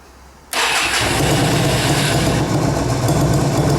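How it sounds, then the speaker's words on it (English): A Yamaha Virago 250 motorcycle engine with choke applied catches abruptly after a brief quiet moment, then runs on at a loud, rough, steady idle without speech. "Let's apply a bit of choke."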